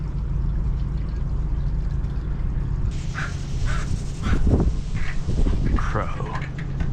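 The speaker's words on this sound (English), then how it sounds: "Crow." Crow caws ring out in a short series of harsh calls outdoors near a working boat, rising over a steady low engine or machinery drone, with a voice speaking briefly among them.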